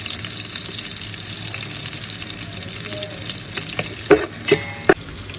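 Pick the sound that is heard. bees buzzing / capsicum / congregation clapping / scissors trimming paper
capsicum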